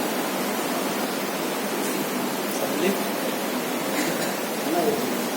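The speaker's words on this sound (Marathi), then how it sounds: "पाऊस आहे." Steady rain falls outside a devotional Gita discourse gathering, a dense, even hiss that fills the whole stretch at constant loudness with no clear voices on top.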